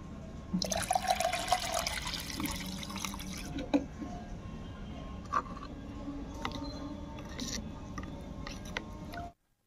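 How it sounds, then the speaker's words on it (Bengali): Water is poured into a wood ash and lemon solution, giving a steady close splash and trickle for about nine seconds, then silence. "এইবারে 1 লিটারের অবশিষ্ট যে জলটা আছে সেই জলটা এর মধ্যে আমি ঢেলে দিচ্ছি।"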